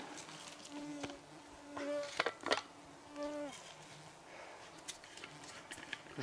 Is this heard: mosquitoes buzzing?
yes